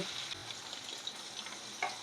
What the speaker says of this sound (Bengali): পনিরটা হালকা ভেজে নেব